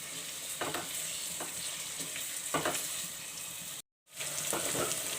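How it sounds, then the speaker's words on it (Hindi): Onions fry toward light brown in a pan for hari mirch keema, a quiet continuous sizzle with occasional stirring scrapes and a brief dropout of silence before the frying resumes. "प्याज को हमें बिल्कुल लाइट सा ब्राउन करना है, बिल्कुल लाइट ब्राउन।"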